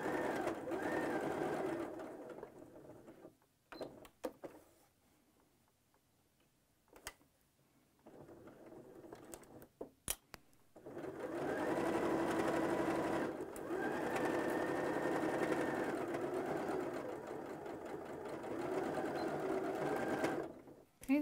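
A sewing machine stitches apron fabric along a 3/8 inch seam with backstitching, whirring steadily in long runs broken by short pauses with faint clicks, with no talking.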